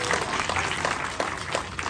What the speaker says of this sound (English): Round of applause for the moonfish.